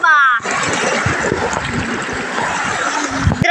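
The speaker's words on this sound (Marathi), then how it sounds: "हा बघा एक छोटासा धबधबा" Small waterfall on a river, splashing in a steady broadband rush of water throughout, with a voice talking over it near the start.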